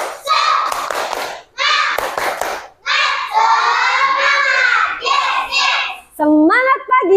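A group of young Indonesian schoolchildren performing a rhythmic clapping chant with sung and shouted syllables, bursts of claps and voices in short phrases with brief pauses between them, loud and close.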